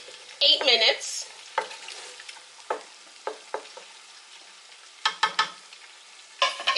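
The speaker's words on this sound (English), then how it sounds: "stir and let it fry for about" A pot of jollof rice base frying in oil while being stirred, with soft sizzle and scattered scraping strokes of a spoon, several sharper clatters near the start and end, close and fairly quiet, no talking.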